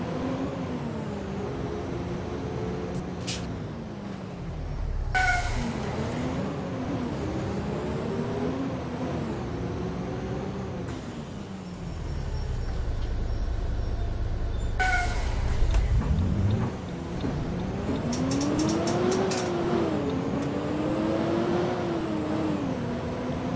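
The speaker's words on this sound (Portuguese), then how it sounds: "O som também tá legal desse carro." A car engine accelerates in the bus and driving simulator OMSI 2, its revs rising and falling in repeated sweeps with gear changes, loud and steady throughout with brief hissing bursts between pulls.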